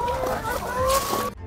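Chickens on a small garden plot in Thailand cluck close by, with a few short calls rising over a busy farmyard background before the sound cuts off abruptly.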